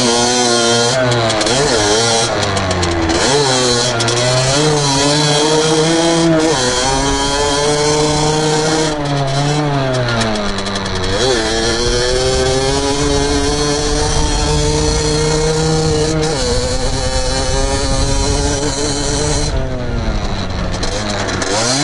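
A Beta 50cc motorcycle's two-stroke engine runs close by, buzzing loudly and revving up and down repeatedly in rising and falling sweeps.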